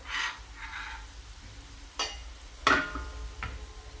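Bitter gourd slices frying gently in oil in a pan for an Andhra-style bitter gourd fry, with a faint steady sizzle and a few soft scraping stirs of a spatula, quiet and close, no talking.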